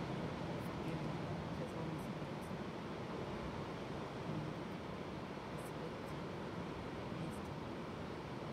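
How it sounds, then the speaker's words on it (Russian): Ocean waves break against the rocks below a cliffside ledge near Sintra, Portugal. The surf comes through as a steady, faint, distant roar with little rise and fall, mixed with light wind noise. "Эта волна разбивается и делает все."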